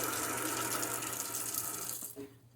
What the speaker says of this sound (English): And then you come over and get you some cold water.